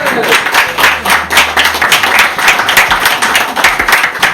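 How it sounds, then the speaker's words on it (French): A live audience at a magic show claps as spectators are called onstage, with close, loud, rhythmic clapping throughout that sounds like a smaller crowd. "Applaudissements, s'il vous plaît."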